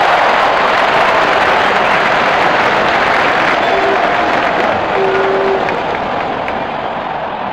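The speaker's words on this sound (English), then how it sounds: "Crowd is going crazy." A packed cricket stadium crowd in a Pakistan vs England cricket video game roars and cheers loudly as a broad, continuous wash of noise that fades slightly toward the end.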